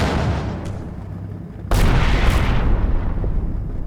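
Heavy gunfire in Combat Mission Final Blitzkrieg, a WWII strategy game, as units shoot at a church: a sharp loud blast near two seconds in, then sustained booming and rumbling fire with a smaller report earlier.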